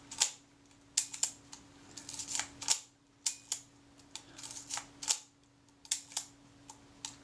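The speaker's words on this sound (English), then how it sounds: "Shutter release absolutely normal." Repeated sharp mechanical clicks of a Kodak Retina IIIS camera shutter firing, in irregular bursts, close and crisp over a faint steady hum.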